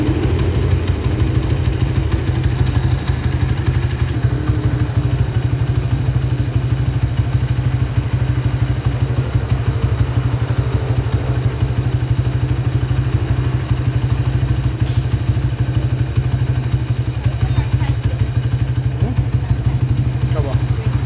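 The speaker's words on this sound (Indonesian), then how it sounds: "Lemono akan mencoba dari motor ini ya." A motorcycle engine runs steadily up close, a loud continuous low rumble with clattering mechanical ticks, while people talk faintly under it.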